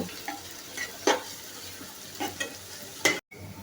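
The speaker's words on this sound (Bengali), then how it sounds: "পেঁয়াজ কুচিটি একটু নেড়ে ছেড়ে ভেজে নেব।" Chopped onion fries in hot oil while a utensil stirs it, giving a steady soft sizzle broken by a few sharp scraping strokes, close and moderately loud, with no voices.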